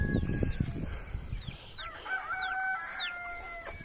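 Hens cluck and a rooster crows in short rising calls over a busy farmyard, with low thumping noise at the start.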